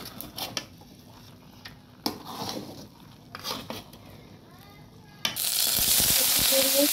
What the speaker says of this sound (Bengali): এই শুটকিগুলো এখন ভালো করে টেলে নেব